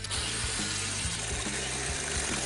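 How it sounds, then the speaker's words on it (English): A power tool cuts through a metal motorcycle fuel tank with a harsh, continuous grinding whine and rhythmic low pulses, loud and close throughout. "Steve Davis just cut my tank in half"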